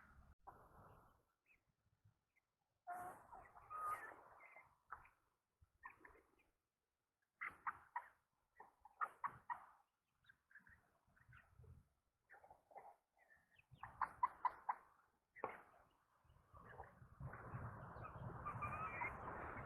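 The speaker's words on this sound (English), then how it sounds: "Let's go see what the chickens are up to." Chickens inside a coop on a Mississippi ranch give repeated bursts of clucking and squawking, some close and fairly loud, with short gaps between calls, ending in a denser stretch of flock noise.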